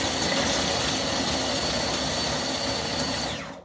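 A small food processor motor whirs loudly and continuously with a gritty, rattling churn of walnuts being chopped, then winds down at the end.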